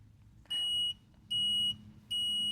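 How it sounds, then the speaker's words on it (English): Three steady high-pitched electronic beeps in even succession, each about half a second long, from the seat-occupancy warning of a Ryobi RM480 48V riding mower, clear over a low hum with no talk. "And then you'd hear a beep because I'm not sitting on the seat."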